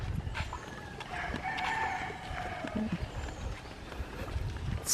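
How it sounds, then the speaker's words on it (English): A rooster crows in the distance over quiet rural outdoor ambience in northern Siargao, with faint rustling and soft background sounds. "All you can hear are the chickens. The roosters."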